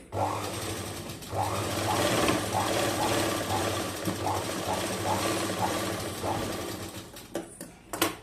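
A sewing machine runs steadily, stitching a kaja patti placket strip, its motor hum and needle chatter loud and close for about eight seconds with a few brief slowdowns.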